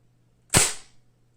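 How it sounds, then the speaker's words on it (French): A single sharp report from a CP2 gun fitted with a suppressor, a short loud crack that decays quickly, close by and alone. "C'est le bruit que ça fait avec le réducteur?"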